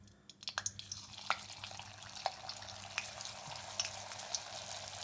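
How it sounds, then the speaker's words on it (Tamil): Potato pieces deep-fry in hot oil over a medium flame with a soft, steady sizzle, broken by small pops and splatters as each piece drops in. "இப்போ இத நம்ம first time பொரிச்சு எடுத்து வெச்சுக்கணும்"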